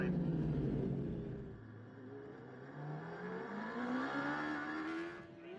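Road race motorcycles at the Cookstown 100, a mixture of Superbike, Superstock and Supersport machines, roar loudly and continuously, their engines revving and rising in pitch as the bikes pull away.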